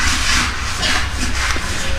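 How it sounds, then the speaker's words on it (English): Close, continuous abrasive hissing and scraping of sanding on wheel rims, steady and loud with slight surges in intensity. "That's some sanding going on of some rims we're going to use"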